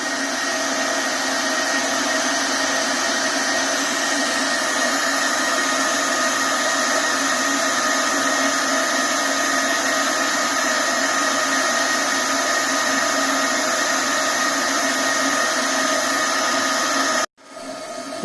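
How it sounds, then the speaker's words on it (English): Small electric motor of a homemade VHS tape mold cleaner running flat out, a steady, loud, even whine that holds unchanged for a long stretch before cutting out abruptly near the end. "I went ahead and maxed the motor out. That's as fast as this one will go."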